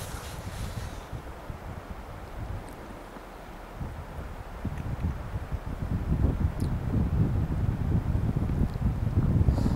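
Wind blows and buffets against the microphone, gusty low rumbling that grows stronger toward the end, with no voices.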